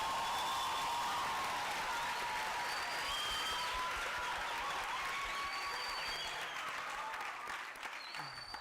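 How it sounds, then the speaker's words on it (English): An audience at a panel discussion claps steadily for several seconds, a broad even wash of applause with a few whoops and cheers rising above it, tapering off slightly toward the end. "Can we please give them a round of applause?"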